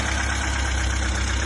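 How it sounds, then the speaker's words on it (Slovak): A VAZ 2106 car engine idling just after being restarted, a steady low rumble with a slightly uneven, knocking pulse, close and continuous with no talk. "Motorik nám ide pekne."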